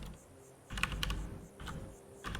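Computer keyboard typing in a few short bursts with pauses between, fairly quiet and close, over a low background hum while a Skyrim game plays.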